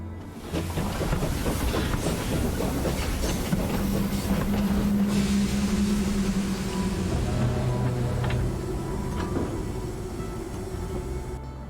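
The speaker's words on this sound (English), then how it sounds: "It's the train!" A train pulls into a station in the video game My Time at Sandrock, a loud steady rumble of rolling wagons with clacking and a brief wheel squeal as it slows, heard alone without talk.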